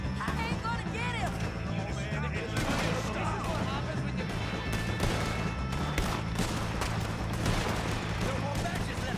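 Gunfire from the Red Dead Redemption 2 video game: a dense, continuous fusillade of shots and booms during a wagon chase, loud and sustained under constant shouting voices.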